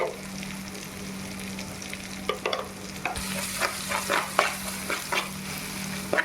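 A fried tomato and chili mixture with salt being stirred in a pan, a low hum at first, then scraping strokes and soft sizzling in an irregular rhythm, close and fairly quiet with no talking.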